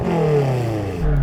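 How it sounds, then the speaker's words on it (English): A BMW M5 engine revs with a loud, rough growl whose pitch climbs steadily and then drops back near the end of a short burst. "Rory, rev up your car."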